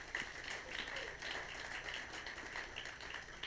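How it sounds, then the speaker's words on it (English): Summit audience applauding, a steady patter of many hands clapping, fairly faint and distant throughout. "She deserves a much bigger round of applause."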